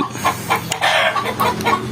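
Mother hens cluck repeatedly up close in short, loud bursts near chicks, several calls in quick succession.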